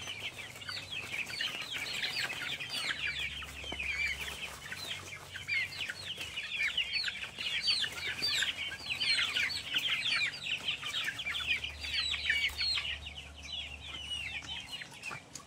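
Chickens raised in crates without a lamp or mother hen cluck and chirp busily at close range, a dense, continuous chatter of many birds with a low hum underneath.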